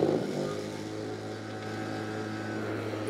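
A Bosch cordless lawnmower with quiet-running technology gives off a steady, low motor hum that holds even and continuous throughout. No voices are heard.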